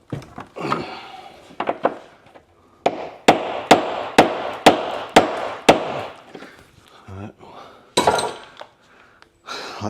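Hard metallic hammer blows ring out on a Subaru's rear suspension parts in a garage, first a few irregular taps, then a steady run of about eight loud, evenly spaced strikes and a final scattered pair.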